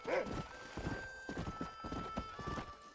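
Horses gallop during a race in the Red Dead Redemption video game, their hoofbeats drumming in a steady rhythm, with a neigh near the start and a low background bed beneath.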